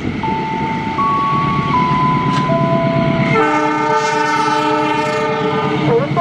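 A twelve-car Indonesian passenger train with compartment coaches rumbles past loudly and close, its horn sounding in sustained tones, first one pitch and then a fuller chord.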